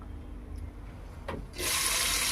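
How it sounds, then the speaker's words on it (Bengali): Chopped onion hits hot oil in a home kitchen pan, bursting into a loud, steady hiss of frying that starts abruptly and continues close and strong, with no talk. "এবার তেল গরম হয়ে গেছে, পেঁয়াজ দিয়ে দিচ্ছি"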